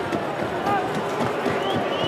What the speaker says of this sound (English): Good crowd in here at Subiaco Oval today,